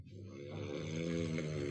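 A man lying in bed breathes heavily in a steady, snore-like rasp, close and fairly loud, continuing throughout with no talking.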